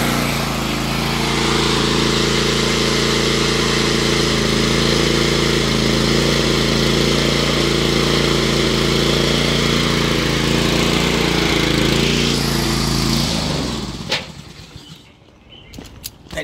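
Honda HRT216 walk-behind lawn mower engine running steadily and loud up close for about fourteen seconds, then cutting off and winding down into quiet handling noises.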